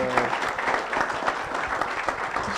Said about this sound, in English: So let's give a good clap